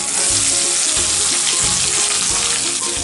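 Sliced onions with green chillies and curry leaves fry in hot oil for a brinjal masala. A dense, continuous close-up sizzle and crackle runs throughout, with no talking.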